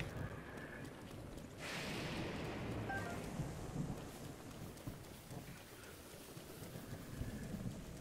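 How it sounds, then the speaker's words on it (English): Rain falls steadily during a thunderstorm in the game Breath of the Wild, a broad hiss with low rumbling thunder swelling partway through, heard alone without talk. "it's a two-handed weapon in a thunderstorm"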